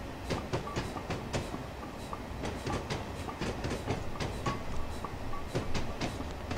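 A Black 5 steam locomotive and its carriages on the North Norfolk Railway run in a winter setting in Train Simulator, with a steady stream of rhythmic wheel clicks and rail clatter at moderate volume and no talk.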